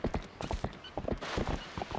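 Horse hooves clip-clop steadily in The Legend of Zelda: Twilight Princess HD as the horse moves through a cramped, branch-filled space. The footfalls are close and fairly loud, with no talk over them.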